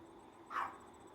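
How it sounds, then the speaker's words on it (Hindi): A dog gives a single short bark at a distance, faint over a quiet background hum, with no talking. "तुम्हारा डॉगी आज काफी देर से भौंके ही जा रहा है।"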